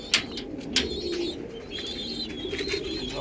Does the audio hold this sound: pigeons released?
yes